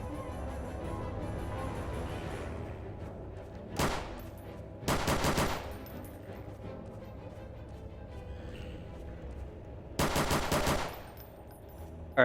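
Gunfire from a ported Glock pistol fired semi-automatic in Half-Life 2: Episode 3, three short rapid bursts of loud shots over a low, rumbling game background.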